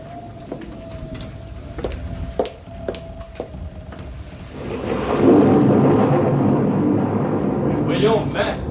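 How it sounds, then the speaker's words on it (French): Thunder from an approaching storm rumbles in the distance, first as scattered low cracks under steady noise, then swelling into a louder, sustained roll that continues to the end. "Le tonnerre, c'est pas dangereux."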